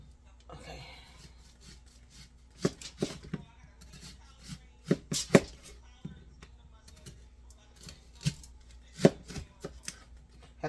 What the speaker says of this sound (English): Now we're about to slice up our onion.